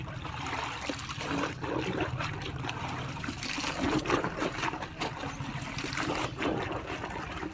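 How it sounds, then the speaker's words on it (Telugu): White clothes get swished and rinsed in a bucket of clean water, producing continuous sloshing, trickling and dripping at close range with irregular surges as the fabric is lifted and plunged. "ఇదిగోండి మూడు బకెట్లో మంచి నీటిలో జాడించేద్దాం"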